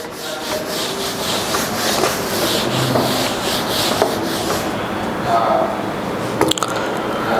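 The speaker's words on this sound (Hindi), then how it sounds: "यहाँ पे मैं यहाँ से थोड़ा सा इसको रब कर देता हूँ" An eraser or duster rubs writing off a classroom board during a trigonometry lesson, giving a steady, continuous scrubbing noise up close that runs throughout with a few small knocks near the end.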